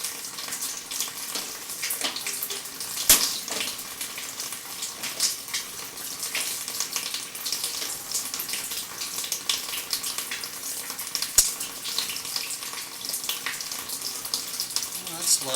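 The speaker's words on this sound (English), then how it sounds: "I do run a steady stream of water throughout my inspections." Steady stream of water running through a sewer pipe during a camera inspection, a continuous hiss and trickle with a couple of brief clicks.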